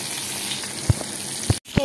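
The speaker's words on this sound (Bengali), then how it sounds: "মাছগুলোকে ভেজে নিচ্ছি" Pieces of Bhola fish fry in a pan with a steady close-up sizzle, punctuated by a few sharp clinks and stirring taps.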